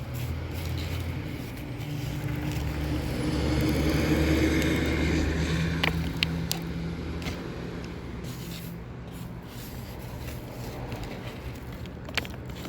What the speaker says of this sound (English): why is she filming when it's like traffic, so much traffic out there?